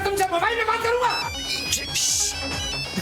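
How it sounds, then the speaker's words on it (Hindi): A mobile phone ringtone rings out as a bright repeating electronic melody, playing loudly under continuous talk from people nearby in an indoor office cabin. "क्लाइंट का फोन आया सर"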